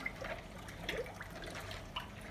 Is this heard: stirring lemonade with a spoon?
yes